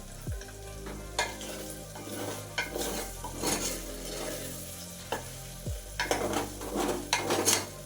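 Paneer fries in a non-stick pan, sizzling steadily and loudly up close while a utensil stirs and scrapes the pan bottom in repeated strokes, with occasional clinks against the metal.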